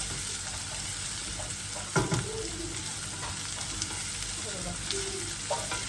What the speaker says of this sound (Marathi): कांदा परतवायला कांदा चांगला लालसर तळू द्यायचा त्या तेलामध्ये